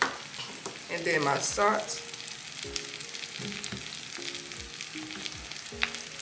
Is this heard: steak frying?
yes